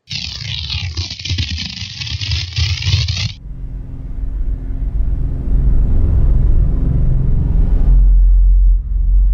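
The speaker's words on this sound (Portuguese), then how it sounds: "podemos imaginar qual seria o som de uma viagem dele numa nave espacial?" Imagined spaceship journey for an astronaut: a loud bright whooshing blast for about three seconds, then a continuous heavy low rumble and roar that builds and stays loud until the end, with no voices.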